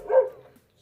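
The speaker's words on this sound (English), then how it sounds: "You just occasionally hear a bark." A neighbor's dog gives a single short bark, moderately loud and a little distant, then quiet.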